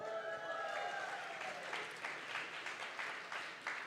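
Audience applause at a youth political summit, a steady wash of clapping that swells after a brief vocal sound and continues at moderate volume from a crowd in a hall.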